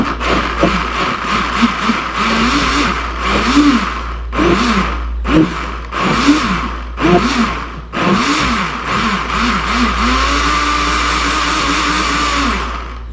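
Small blender making a smoothie runs in short pulsed bursts, each loud whir stopping briefly before the next, ending in one longer steady spin.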